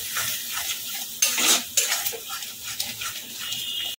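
Pointed gourd stirred and frying with coconut paste in a pan over a medium gas flame, with scraping spoon-on-pan clatter, a couple of sharper metallic knocks near the middle, and a soft sizzle underneath, no talking.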